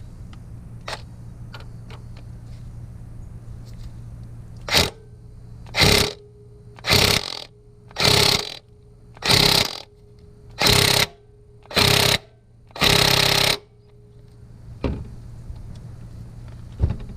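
A large half-inch impact wrench tightens cylinder head bolts on a 2007 Mazda 3 in a garage, firing about seven loud, close, rattling bursts of roughly a second each with short gaps, over a steady low hum.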